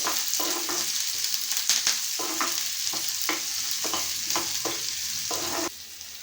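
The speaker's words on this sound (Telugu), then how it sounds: "ఉల్లిపాయలు, వీటిని ఒకసారి ఈవెన్గా కలిపేసుకుందామండి" Onions with curry leaves stirred while frying in a pan, a loud steady sizzle broken by repeated scraping strokes of a spoon, ending with the sizzle quieter and alone.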